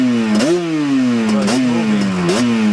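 A 1988 Yamaha Banshee engine revs up in three quick throttle blips, its steady mid-pitched idle drone rising sharply each time, close and loud, with no talking.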